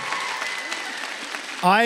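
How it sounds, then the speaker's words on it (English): Steady clapping from a Comic Con Wales 2023 audience fills the moment, a dense even patter, before a voice cuts in at the end. "Round of applause."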